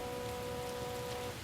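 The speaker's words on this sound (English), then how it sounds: "Yeah, it's raining a lot." Rain falling in the video game L.A. Noire, a dense, constant hiss of drops on surfaces with a low rumbling bed, loud and even, with a faint steady tonal hum over it.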